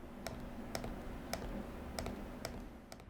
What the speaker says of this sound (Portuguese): os cliques eu achei um pouco pesados e que fazem também um certo barulho na hora de clicar